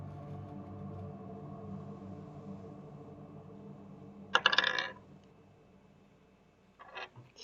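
Dice rolling on a table during a tabletop game, a brief clattering burst near the middle and a shorter rattle near the end, close and quiet against a low background hum.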